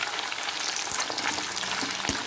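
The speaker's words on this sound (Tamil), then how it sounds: "எண்ணெய் நீங்கள் நிறையா ஊற்றிருக்கணும் ஃப்ரெண்ட்ஸ் ஃப்ரை பண்ணுறதுக்கு. ஏன்னா அந்த உருளைக்கிழங்கு வந்து மிதக்கணும்" Potato chips deep frying in plenty of oil in a pan, giving a steady, dense sizzle and crackle with a few sharper pops, close and continuous throughout.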